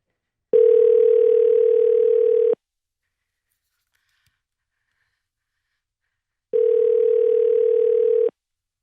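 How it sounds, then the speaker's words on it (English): A telephone dial tone sounds twice while a phone call is placed, each a steady two-second hum separated by several seconds of silence. "Okay, I made the phone call."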